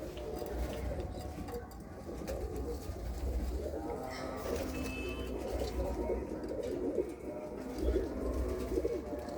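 Pigeons coo repeatedly in low, throaty murmurs over a noisy background, the calls overlapping in a soft, continuous rhythm, from a pair of pigeons in a coop.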